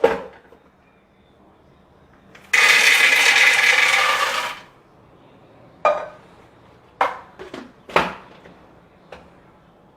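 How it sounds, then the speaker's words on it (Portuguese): Blender grinding toasted peanuts, a loud harsh whirring burst of about two seconds, followed by several sharp knocks and clatters of the jar and lid. "botamos no liquidificador, né?"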